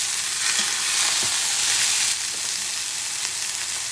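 An egg fries in a hot pan, giving a steady, close, loud sizzle with crackling spatters throughout and no voices.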